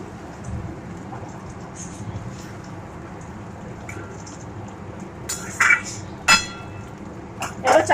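Pumpkin greens frying in a pan get a splash of water, giving a steady, moderately loud hiss and crackle of sizzling throughout, with a few sharper clinks and knocks near the end.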